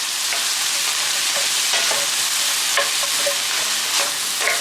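Pork and bread stuffing stirred together for a farm-fresh strata, a steady loud sizzle with scraping spoon strokes and small clinks running throughout.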